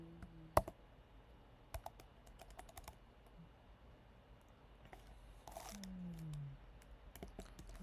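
Code is typed on a computer keyboard in quiet, sparse bursts of key taps and clicks, one tap noticeably louder, with a faint murmur of voice partway through.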